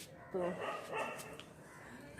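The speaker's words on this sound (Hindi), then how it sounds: "कुत्ते भौंक रहे हैं, देखिए" Dogs bark in a home garden on a cold morning, a couple of quick yaps up close followed by softer yips, with someone speaking briefly.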